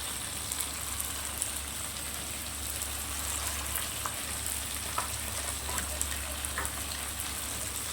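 Marinated mutton fries in hot spice tempering, a steady dense sizzle with crackling pops throughout, close and continuous with no talking.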